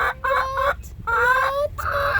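A hen gives repeated drawn-out, whiny calls, three nasal cries in a row, close and clear with no talking.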